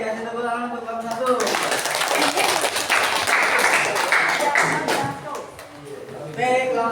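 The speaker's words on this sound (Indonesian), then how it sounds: "kasih tepuk tangan untuk kelompok 1" Students clapping for a group after its class presentation, a burst of applause rising after a brief spoken line, sustained for several seconds, then easing as a voice returns at the end.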